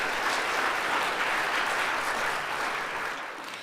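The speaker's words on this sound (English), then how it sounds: "okay, feel free to clap" A crowd at an architecture awards ceremony applauding with steady, dense clapping that holds for a few seconds and tapers slightly at the end.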